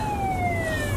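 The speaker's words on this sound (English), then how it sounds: "Oh, there's another police car." A police car siren wails steadily in a single falling tone over a continuous low road rumble, short and moderately loud.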